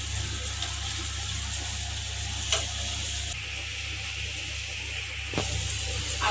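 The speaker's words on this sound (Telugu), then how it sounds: "మీడియం ఫ్లేమ్లో పెట్టుకుని ఫ్రై చేసుకోవాలి." Rice flour chakralu made with roasted gram frying in hot oil over a medium flame, a steady even sizzle with a low hum underneath and a couple of soft clinks.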